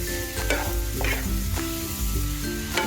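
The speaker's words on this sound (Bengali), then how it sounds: "নারকোলের সঙ্গে চিনির পাক দেওয়া, ভালো করে কিছুক্ষণ এখন নাড়তে হবে।" Grated coconut cooking with sugar for coconut sweets, stirred steadily in a pan with a constant sizzle and rhythmic scraping strokes, close up and without voices.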